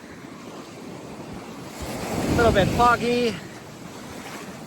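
Surf rushes steadily in the background with wind buffeting the microphone, while a person speaks briefly over the noise.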